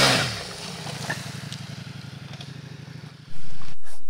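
A Ducati Multistrada V4 S motorcycle rides on dirt, its engine holding a steady, close, pulsing drone before a sudden loud rushing burst near the end.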